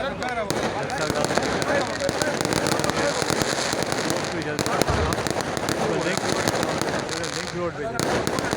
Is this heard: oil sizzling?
no